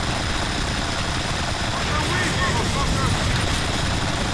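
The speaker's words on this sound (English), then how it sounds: "Oh, it's so hard to control a helicopter." A helicopter in Grand Theft Auto 5 drones steadily with a dense, continuous rotor and engine roar that stays loud and even throughout.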